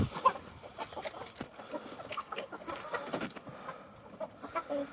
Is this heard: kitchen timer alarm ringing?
no